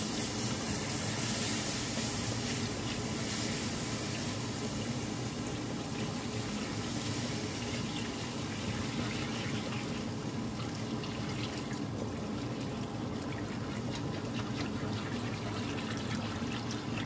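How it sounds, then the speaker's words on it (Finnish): Water poured steadily into a pan of sauce made with sausage, a continuous loud rushing and trickling hiss lasting throughout with no talk. "Tuosta sitten vettä ruvetaan lisäämään."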